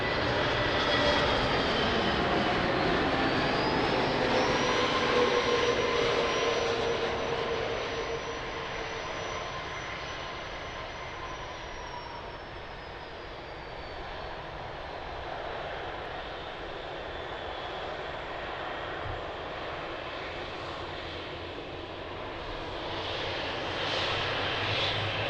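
An EasyJet airliner lands at Lisbon Airport with a loud jet roar and a high whine that slowly falls in pitch, easing off midway before the rumble swells again near the end.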